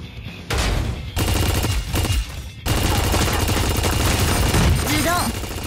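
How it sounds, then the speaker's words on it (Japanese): Dense bursts of gunfire and heavy booms fill a mecha battle in the video game Super Mecha Champions, loud and continuous with brief pauses, while a voice talks over the action. "銃声が聞こえた。"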